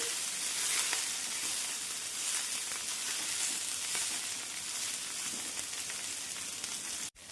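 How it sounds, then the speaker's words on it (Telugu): Chopped coriander and mint sizzle in oil for a preserved chutney, a steady, soft frying hiss that crackles lightly and continues evenly before cutting off abruptly. "కొత్తిమీర పుదీనా ఇదంతా కూడా నూనెలో బాగా మగ్గాలి"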